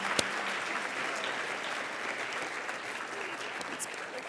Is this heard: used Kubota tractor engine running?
no